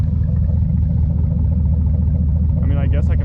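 A 6.0 liter V8 truck engine idles with a steady, deep low rumble close by, holding an even drone throughout.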